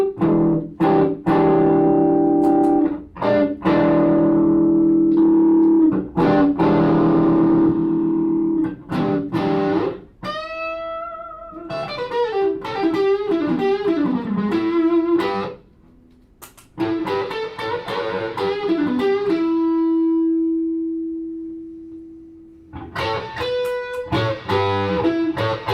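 An electric guitar runs through a Quilter Tone Block 200 head with its limiter engaged, alone and up close, mixing struck chords, bent single notes, long sustained tones and brief silent gaps.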